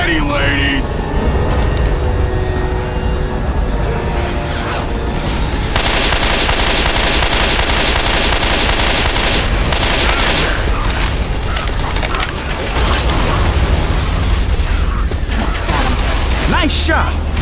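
Game gunfire in Left 4 Dead 2 rattles in dense, loud bursts of automatic weapons and shotgun blasts, nearly continuous with short gaps, while character voices call out over the shooting.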